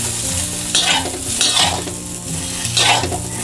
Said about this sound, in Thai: คั่วด้วยไฟอ่อนค่ะคั่วแบบใจเย็นๆนะไม่อย่างนั้นเดี๋ยวเขาจะติดกระทะแล้วก็จะไหม้นะ